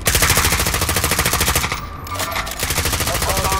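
Rapid automatic gunfire rattles in a video game, loud, close and continuous, briefly pausing in the middle before the fast bursts resume.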